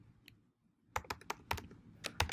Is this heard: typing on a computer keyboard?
yes